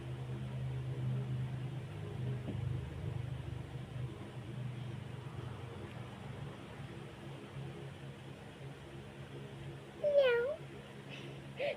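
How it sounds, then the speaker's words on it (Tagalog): A cat gives a single short meow near the end, rising clearly above a low, steady background hum with a faint rumble. "Yung pusa."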